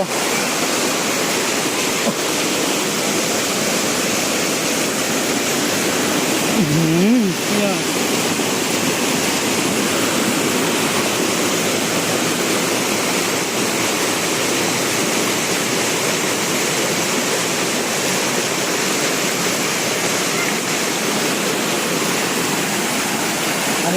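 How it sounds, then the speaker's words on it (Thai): Powerful, continuous rush of falling water at Sam Lan waterfall in a wildlife sanctuary in Sisaket, Thailand, a dense roar that fills the whole stretch evenly, with one brief faint disturbance partway through. "น้ำตกสามลันนะครับผม"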